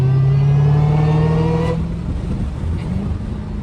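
A Dodge Hellcat's engine revs hard near the listener, a strong rising roar for over a second before settling into a lower, rumbling idle with a faint whir.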